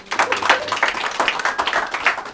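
Audience applause at a small meetup as a presenter is called up, a lively patter of clapping from a modest group, fairly close and steady throughout.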